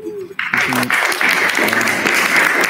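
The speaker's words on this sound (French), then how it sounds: "Tonnerre d'applaudissements." Loud audience applause breaks out at the end of a conference workshop talk, steady dense clapping that fills the room, with a few voices talking over it.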